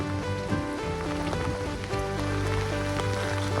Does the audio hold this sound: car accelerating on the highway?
no